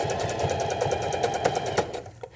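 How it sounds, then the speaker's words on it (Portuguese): A sewing machine runs steadily along trouser seams, thread matched to the fabric, its fast even stitching rhythm close and continuous before slowing and stopping near the end. "você pode passar a máquina um pouco mais devagar ou ir ajudando"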